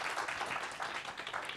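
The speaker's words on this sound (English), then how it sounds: "Another round of applause, please." Audience at WordCamp Asia 2023 gives a brief, quiet round of applause, a soft even patter of clapping heard from a distance.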